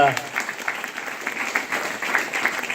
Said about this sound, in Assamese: ৰূপেশৰ কাৰণে এটা জবৰদস্ত তালি